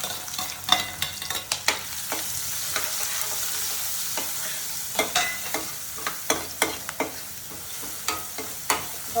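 Green chilli, garlic and ginger paste sizzles steadily in hot oil while a spoon scrapes and stirs the pan in quick, irregular clacks, close and fairly loud with no talking.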